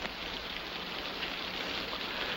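Steady rain falls outdoors in a World War II combat setting, a constant broadband hiss with no break, fairly faint and alone, without voices.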